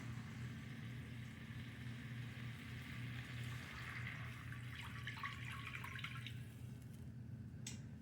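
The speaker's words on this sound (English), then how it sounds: "Add the water, which is right here, 2 cups." Two cups of water poured into a skillet on the stove for shrimp scampi with orzo, a steady running splash throughout with a brief brighter trickle near the end.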